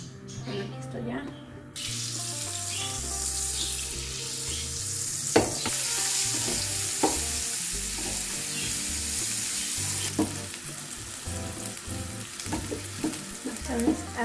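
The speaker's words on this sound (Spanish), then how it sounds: "Nada más voy a freír la cebolla y los ajos." Onion and garlic frying in a pan, a bright steady sizzle that rises sharply after a quiet start, with utensil clinks and stirring throughout and occasional talking in the background.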